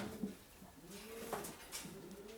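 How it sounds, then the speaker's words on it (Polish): Low, gentle cooing from a pigeon, a couple of soft rolling calls close by against faint background hiss. "Tu jest jeszcze jeden gołąbek."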